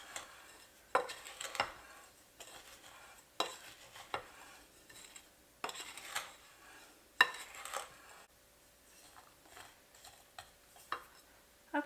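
Flour being stirred into a black currant pie filling in a bowl, with a spoon scraping and knocking against the sides in irregular clinking strokes, close and fairly quiet.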